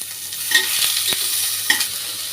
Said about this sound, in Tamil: இதை நல்லா ஒரு லைட் ப்ரௌன் வர வரைக்கும் வதக்கிக்கலாம்